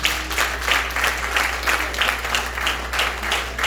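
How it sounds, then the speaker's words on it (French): A church congregation claps together in praise of the Lord, a dense and fairly loud burst of rhythmic applause that pulses evenly throughout, with no talking over it. "On acclame le Seigneur pour ça."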